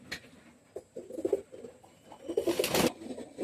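A pair of Sakhi teddy pigeons coo nearby in soft, low, throaty bursts, with a short rustling flurry near the end.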